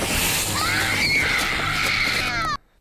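A single loud, shrill scream on a Twitch stream, sustained for more than two seconds with a wavering pitch, then cut off abruptly into near silence.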